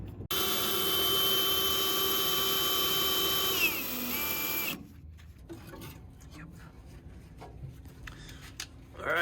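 A drill cuts out spot welds on the body of a Datsun 240Z race car, giving a loud, steady, high whine for about four seconds before it stops and leaves quieter workshop clatter.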